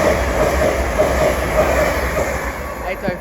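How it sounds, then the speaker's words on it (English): A Lumo Edinburgh-to-London train passing through Doncaster station makes a steady rumble with faint rhythmic clicking of wheels on rail joints, under a voice speaking. "As also coming through is a Lumo service from Edinburgh to London King's Cross."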